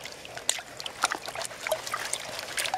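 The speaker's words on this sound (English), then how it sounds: "pour off a little bit of the water, give the pan a good shake." Water poured off from a gold pan during backyard gold panning, heard as irregular close trickles and splashes with a few small droplet plinks, fairly soft and without talk.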